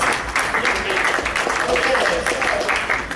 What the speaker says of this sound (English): Let's give all these guys a round of applause.